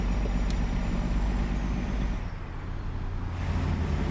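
A Peterbilt 389 heavy-haul truck engine in American Truck Simulator drones with a steady low rumble, close and continuous, with a brief dip in the upper range midway.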